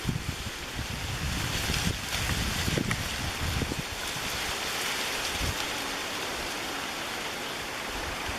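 Wind gusts across an open embankment in June, a loud, rumbling buffet with sharper bursts early on that settles into a steady roar, with no voices.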